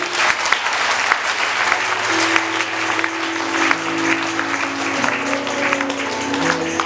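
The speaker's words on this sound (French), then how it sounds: "Acclamez le Saint-Esprit." A church congregation claps and cheers steadily and loudly throughout, a dense, sustained wash of applause with a held organ or keyboard chord underneath.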